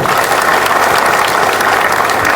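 An audience at a talk or meeting claps loudly, giving a dense, continuous wash of applause. The clapping stays close and even in level for the whole stretch, with no pauses.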